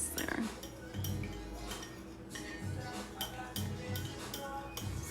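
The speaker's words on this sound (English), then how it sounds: "So I just added the lemon juice to this, and we're gonna stir it up." Pinto beans being stirred with added lemon juice in a kitchen pot: soft, irregular clinks and scrapes of a utensil against cookware, faint and close.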